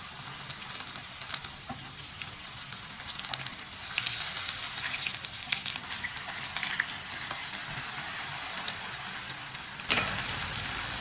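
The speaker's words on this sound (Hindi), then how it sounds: "कबाब हमारे दोनों साइड से फ्राई हो चुके हैं" Kebabs fry in a pan with a steady close sizzle and hiss that runs throughout, broken by small pops, with a louder burst of sizzling near the end.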